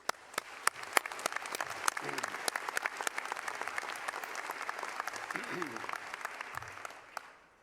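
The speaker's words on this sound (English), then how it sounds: "One more round of applause for our students." An audience at the 2018 Kansas City University white coat ceremony applauds the students with crisp, sustained clapping and scattered sharp claps, while a few voices murmur faintly underneath.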